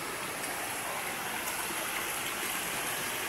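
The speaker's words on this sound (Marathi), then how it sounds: "वाटेवरती जोरदार पाणी आहे बघा." A strong stream of water rushes along a village path near a temple in Devgad, Sindhudurg, in the Konkan countryside, a steady, even hiss and gurgle that stays constant throughout with no voices.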